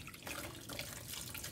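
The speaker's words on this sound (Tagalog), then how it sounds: "hugasan nyo siya ng tubig. Banlawan nyo." Water runs steadily from a tap over banana blossom being rinsed in a sink, a soft continuous splashing wash at low volume with no voices.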